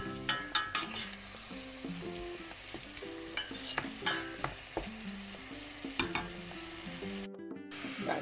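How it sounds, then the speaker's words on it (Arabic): Meat fries with onions in a pan, a soft continuous sizzle broken by regular scraping clinks of a utensil stirring, close and moderately quiet, with no voices. "قلوها بصل، نزيدو نضيفو المرص تاعنا تاع اللحم"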